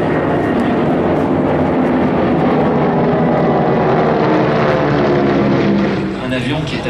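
Vintage aircraft fly at the Air Legend 2024 air show, with a dense, steady propeller engine drone that fades slightly at the end, while someone talks over it.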